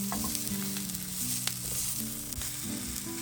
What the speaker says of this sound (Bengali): আমরা কিছুটা ভেজে নিয়েছি, মরিচগুলো আসলে হয়ে গিয়েছে, রসুনগুলো একটু বার্ন মার্ক এসেছে আর নারকেলটা অলমোস্ট ড্রাই হয়ে গিয়েছে